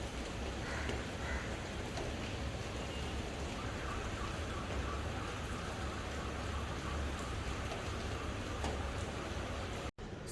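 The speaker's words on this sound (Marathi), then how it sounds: "गेले 3 दिवस इथे कंटिन्यू पाऊस सुरू आहे" Rain falls continuously in Nerul, Navi Mumbai, as a steady, uniform wash of drops. It stays loud and unbroken until a brief cut near the end.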